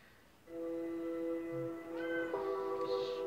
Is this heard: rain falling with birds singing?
no